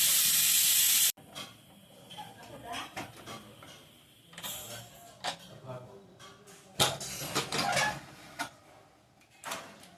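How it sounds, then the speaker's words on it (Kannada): A pressure cooker, used for soya chunks tomato bath, releases a loud burst of hissing steam as it is opened, followed by quieter clatter and shuffling while someone talks. "ಕುಕ್ಕರ್ ಕೂಗಿದೆ, ಓಪನ್ ಮಾಡೋಣ ಬನ್ನಿ"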